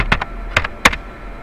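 Computer keyboard typing, a few distinct key presses in a short uneven burst, close and fairly loud with no talking.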